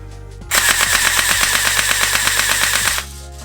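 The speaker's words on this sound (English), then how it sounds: "did I tell you it only shoots in full auto?" A Tokyo Marui AK47 Mini airsoft gun fires a sustained full-auto burst of about eight rounds per second, a loud, close, rapid mechanical rattle lasting around two and a half seconds before stopping abruptly.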